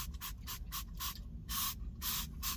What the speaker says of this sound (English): I'm going to spray it on the cloth.